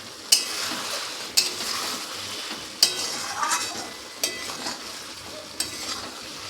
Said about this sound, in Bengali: ঢাকনাটা খুলে আবারও নাড়াচাড়া করে নেব।